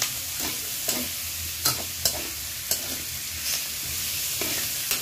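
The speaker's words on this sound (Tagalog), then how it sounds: "Lagyan na rin po natin sayote para sama-sama together. Yan. So mabilis na paggisa" Chayote and carrots sautéed quickly in a hot pan for pancit guisado, a steady sizzle broken by several sharp stirring scrapes and clanks of a utensil against the pan.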